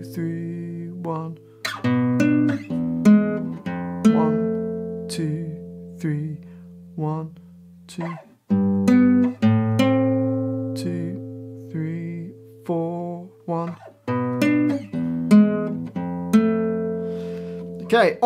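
Fingerpicked guitar plays the opening line of a piece from The Last of Us Part II, a steady flow of ringing plucked notes and sustained chords, close and clear with no talking over it.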